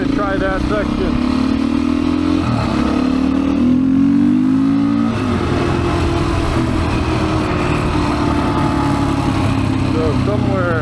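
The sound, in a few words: Royal Enfield Himalayan motorcycle riding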